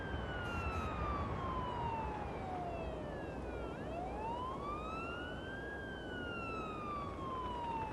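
A wailing ambulance siren from the paramedic driving game Ambulance Life: A Paramedic Simulator sweeps steadily down and then back up in pitch, loud and continuous over a constant engine rumble, with no voices.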